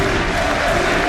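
Large arena crowd at an esports all-star finals roars and applauds in a dense, continuous wash of cheering, loud and unbroken throughout.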